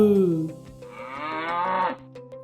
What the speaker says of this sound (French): le bruit que fait la vache